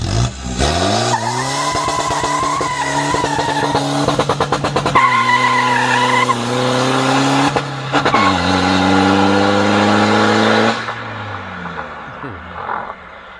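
A tuned Isuzu D-Max diesel pickup on stock injectors, pulling away in first gear: loud, close engine revving with climbing harmonics, rapid stuttering rev-limiter bursts, then the roar eases and fades out.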